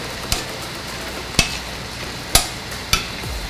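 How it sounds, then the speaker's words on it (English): Hubad adobo with pork skin cooking down in a pan with onions, giving a low steady sizzle with a few sharp stirring clicks and pops spread across the moment. "This adobo is going through a cooking down process with the skin."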